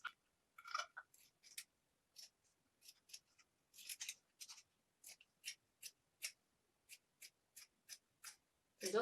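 Scissors snip repeatedly through trouser fabric, a steady run of crisp cuts at close range with short pauses between them, quiet and without talk.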